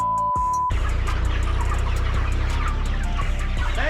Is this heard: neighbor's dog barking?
no